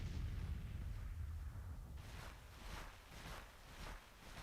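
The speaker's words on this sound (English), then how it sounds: "Our own artillery firing." Artillery fire in the Civil War strategy game Grand Tactician at Gettysburg: a low rumbling roll of distant cannon booms, followed by several softer, repeated bursts spread over a few seconds, with no voices.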